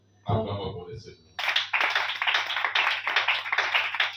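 A church congregation claps in praise in a quick, steady rhythm that starts right after a short spoken line and continues loudly to the end.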